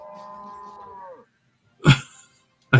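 Cattle mooing in the video game Deeeer Simulator, one long drawn-out close moo followed by silence and then two abrupt loud thumps.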